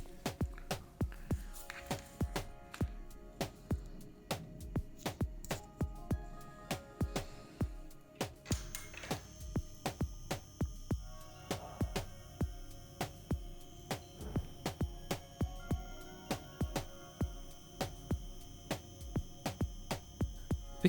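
A Free Warrior K1 cartridge pen tattoo machine runs with a quiet, steady hum, giving off a soft rhythmic pulse that keeps an even beat through the whole stretch, with no talk.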